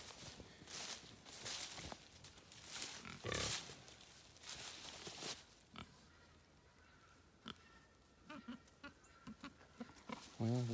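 A pasture-raised pig grunts and snuffles close by amid rustling and footsteps outdoors, with short low grunts coming in irregular bursts, louder near the end.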